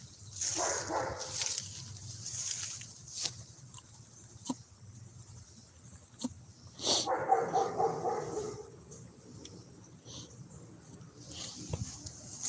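Barks from a dog in a home, a few loud bursts near the start and a longer cluster in the middle, set against a low steady hum and scattered knocks.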